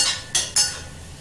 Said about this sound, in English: then we're just going to give this a quick stir, just to make sure we keep everything moving and we're not burning the sugar on the bottom of the pot